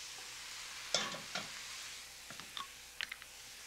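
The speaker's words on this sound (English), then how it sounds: "I'm going to add the lentils. my lovely lentils." Lentils stirred through warm walnut oil and balsamic dressing in a pan, with a few soft, close scrapes and clicks of a utensil over a quiet, faint sizzle.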